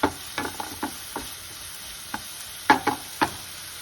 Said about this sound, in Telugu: పచ్చివాసన పోయేదాకా బాగా వేయించుకోవాలి.